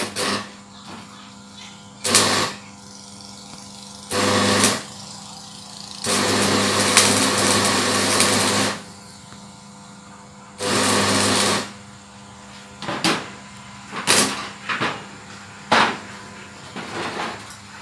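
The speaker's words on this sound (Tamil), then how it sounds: "இப்போ பாருங்கள் இது கண்டினியூவாக வெல்டிங் அடிக்கிறேன் இது மேலேயே." Arc welding a continuous bead along a holed steel pipe, heard as loud bursts of harsh crackling buzz lasting one to three seconds each, separated by quieter gaps, close up with no talk.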